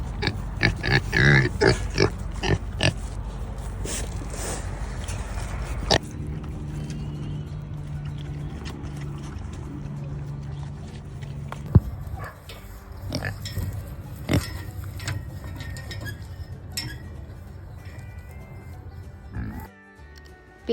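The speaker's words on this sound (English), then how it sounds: "Have you ever heard a pig oink?" Kunekune pigs on a farm grunting and oinking up close in a quick cluster, followed by quieter shuffling and occasional clicks and knocks in the pen.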